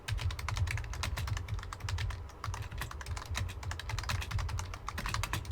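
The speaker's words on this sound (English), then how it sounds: "sorry for the aggressive typing." Rapid, forceful typing on a computer keyboard, close and loud, a dense continuous clatter of keystrokes with no voices.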